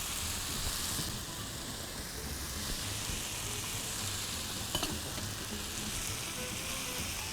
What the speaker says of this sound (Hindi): ये जो फ्राई की हुई सब्ज़ी है ये आ गई, और जो मैंने गोभी और शिमला मिर्च की है वो आ गई। सब चीज़ को करेंगे मिक्स।